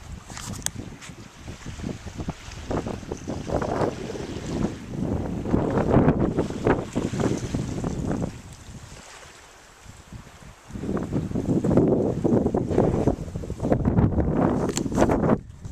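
Wind gusts buffet the microphone beside the ocean at Akaroa harbour, with boats nearby, rushing in loud swells, dropping away briefly midway and then surging back strongly.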